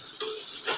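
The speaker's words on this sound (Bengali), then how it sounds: "এই যে পটল ভাজা করছি" Slices of pointed gourd frying in a pan give a loud, steady crackling sizzle from close by, with a brief sharper spatter partway through.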